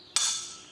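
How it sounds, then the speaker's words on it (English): A single sharp metallic strike of a hammer on a fan clutch removal tool rings out close by, a bright clink that decays over a fraction of a second. "I'm going to strike this with my hammer."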